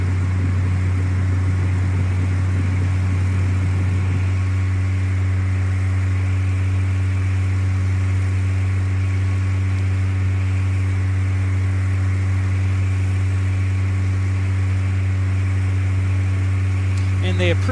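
Aircraft engine in a flight simulator game, a steady loud drone that settles into a sustained high-power tone on the takeoff roll, continuous throughout with a faint voice in the background.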